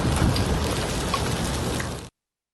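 Heavy rain pours down over a city in Khyber Pakhtunkhwa, a dense, steady hiss of falling water that stops abruptly after about two seconds.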